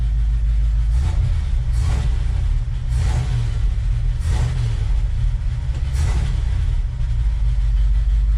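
A 1969 Ford F-250 engine, started after sitting 20 years, runs steadily with a deep low rumble and a sticking throttle, with a few brief bursts rising over the continuous near, loud drone.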